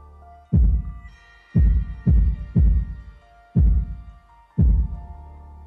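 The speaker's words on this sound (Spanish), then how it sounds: "Con los latidos del corazón del ángel." Angel's heartbeat in the video game Tormented Souls: six deep, booming thumps at uneven intervals, each resonant and slowly decaying, loud over a quiet synthetic backdrop with no talking.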